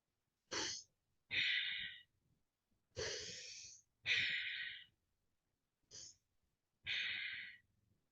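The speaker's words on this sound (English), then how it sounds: "Let's go to the fire. The breath of fire." Forceful breaths during a breathwork exercise, six loud, airy in-and-out breaths in steady alternation with short silent gaps between them, close to the listener and with no talking.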